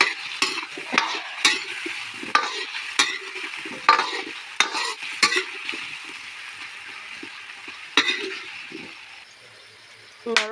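Meat curry frying in a pan is stirred in rhythmic, repeated scraping strokes over a steady close sizzle, with the strokes pausing briefly near the end.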